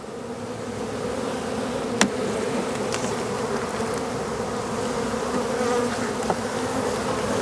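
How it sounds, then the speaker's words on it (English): A dense, steady buzz of many honey bees swarming close by around an opened hive, with a couple of sharp metallic clicks cutting through. "when the bees are thick like this"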